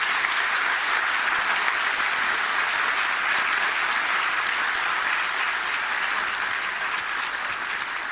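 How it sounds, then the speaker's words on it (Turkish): A crowd at a panel's question-and-answer session claps to thank the guests, a steady, even wash of applause from many hands that carries on without a break and eases slightly toward the end. "hep birlikte yürek tasarı bir alkışla teşekkür etmek istiyorum"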